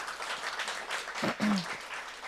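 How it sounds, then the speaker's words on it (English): Applause from the audience at a women leaders' summit, a steady, moderately loud wash of clapping across the whole stretch, with a brief voice rising partway through. "round of applause."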